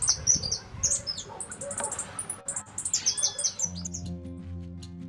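Hooded siskins in central Argentina sing bright, rapid chirps and twittering phrases, fairly close, ending in a sustained low tonal hum in the background.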